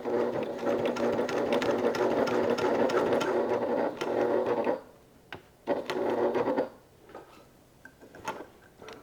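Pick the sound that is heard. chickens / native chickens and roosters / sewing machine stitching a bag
sewing machine stitching a bag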